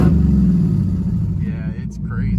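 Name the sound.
Dodge Challenger SRT Demon engine idling aggressively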